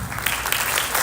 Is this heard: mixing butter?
no